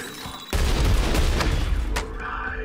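A single heavy rifle blast in the shooter game Trepang2 with a booming low-end impact that rolls on into a long reverberant tail, fading after about two seconds, alone with no voices.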